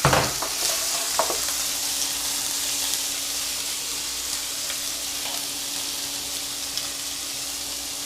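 Shrimp sizzle in a preheated pan for a Caesar salad with a loud, steady hiss that holds evenly from start to finish, with a few soft pops and clicks near the beginning and no talking.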